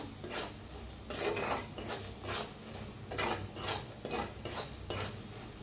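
Red chilli powder, black masala and coriander powder are stirred into hot oil in a pan for garlic okra, a spoon scraping the pan in repeated rhythmic strokes over a soft, steady sizzle.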